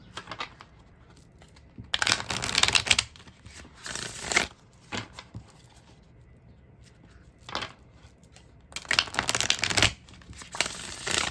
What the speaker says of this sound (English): this would be the way this one shuffles